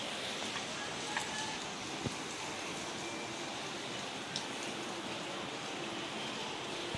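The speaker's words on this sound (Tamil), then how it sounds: "சரியான மழை" Heavy early-morning rain pours steadily in Velachery, Chennai, a dense, constant hiss that stays even throughout, with a few faint drips and taps poking through.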